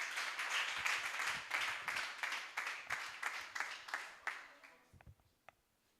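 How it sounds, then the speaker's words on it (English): Audience applause at an export summit, a dense burst of rhythmic hand clapping that starts strong, then thins and fades over several seconds to a few scattered final claps and near silence. "Please, a round of applause as we make welcome Dr."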